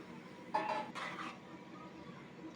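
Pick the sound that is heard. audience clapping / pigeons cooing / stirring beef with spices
stirring beef with spices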